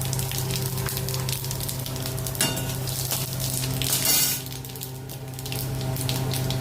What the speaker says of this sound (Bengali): এবার একটা শুকনো লঙ্কা আর এই 5 ফোড়ন দিলাম